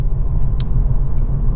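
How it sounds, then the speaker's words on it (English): Honda Civic 1.5 VTEC Turbo, 10th generation, cruising on a road, heard from inside the cabin as a steady low engine and tyre rumble with a few faint higher ticks over a short stretch. "So here we are now in the car and driving."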